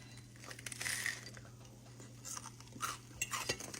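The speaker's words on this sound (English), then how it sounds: "You want me to take a bite so you can hear it crunch?" A bite goes into the crisp, browned edge of a big skillet hoecake of cornbread, giving a few quiet crunches and clinks, close and faint, with no talking.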